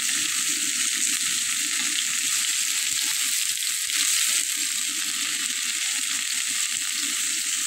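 Fish head frying in hot oil with turmeric, a loud, steady sizzle that runs unbroken and close the whole time, with no voices over it.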